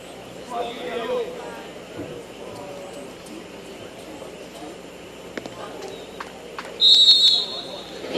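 A referee's whistle blows to start a football match in the Ascension Tournament, one sharp, loud, steady blast near the end, following crowd and pitch ambience with a commentator talking throughout.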